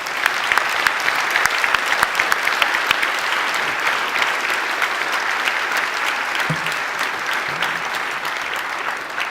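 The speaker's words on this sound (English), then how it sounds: "Let's give you a round of applause to ourselves." Conference audience applauding together in a hall, a steady, dense wash of clapping that carries on evenly for the whole stretch without easing off.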